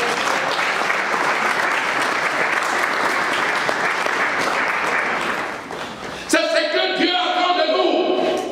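A church congregation at a pastor's service applauds loudly in a dense, steady wash of clapping that fades near the end, giving way to music with sustained tones.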